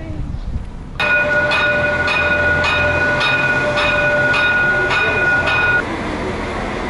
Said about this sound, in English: That is the new Cholula de Puebla train.